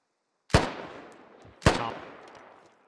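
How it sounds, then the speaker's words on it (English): Two loud, sharp gunshots ring out in the military shooter game Squad, each with a long echoing decay, spaced about a second apart. "Where are you shooting?"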